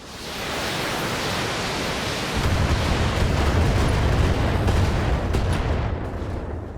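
In the BattleTech video game, missiles launch and burst in a long, loud roaring wash of explosions. It swells heavier partway through, then fades toward the end.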